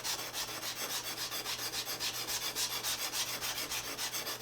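Steady rasping strokes of a hand file smoothing hammer marks off the cast iron casting of a Defiance #3 hand plane, a regular back-and-forth rhythm close up with no talking.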